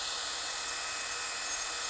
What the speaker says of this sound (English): And I'm drilling stainless steel here.